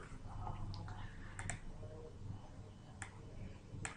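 Computer mouse clicks while editing a spreadsheet formula: a few sharp, isolated clicks spread over several seconds, close and fairly quiet, over low room noise.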